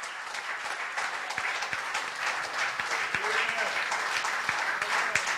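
Sustained church congregation applause, a broad dense wash of many hands clapping at steady volume throughout, with sharper individual claps and voices mixed in.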